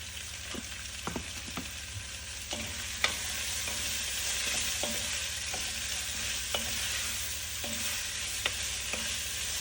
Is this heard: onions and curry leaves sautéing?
yes